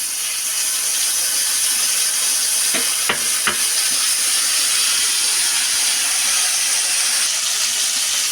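Mustard paste added to hot oil for a rohu fish curry sizzles in a pan, a loud, steady frying hiss with a few sharp spatters and pops near the middle, and no voices.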